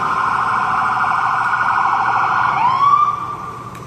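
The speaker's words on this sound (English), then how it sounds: "especially not with that siren" A loud, close emergency siren sounds on the street, holding a steady wailing tone before sweeping upward near the end.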